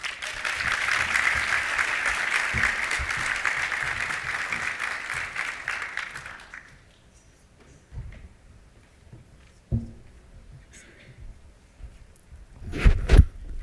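At an awards reception, a hall audience applauds loudly and steadily for several seconds, then the clapping fades out and leaves scattered knocks and handling noises in a quiet room.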